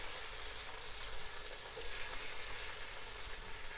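Tomato stirred into browned onions frying in a pan for masala chicken, giving a steady, quiet sizzle with soft scraping and no voices.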